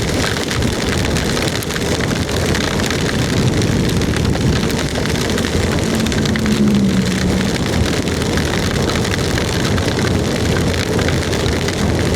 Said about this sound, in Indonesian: Wah, hujannya tetap masih deras ini teman-teman.